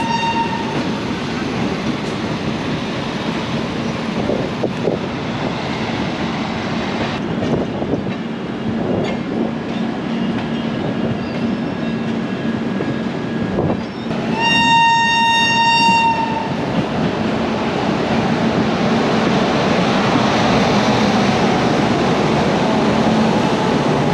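The Gwalior Kolkata Superfast Express rolls along with a steady rumble and wheel clatter, then a loud, sustained horn blast sounds midway through and fades as the running noise continues.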